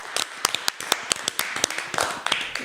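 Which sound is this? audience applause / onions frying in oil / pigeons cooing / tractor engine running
audience applause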